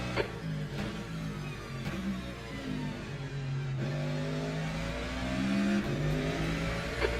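Race cars at Imola in the Le Mans Ultimate racing game roar close by, engines revving up and down through gear changes with passing cars layered over one another.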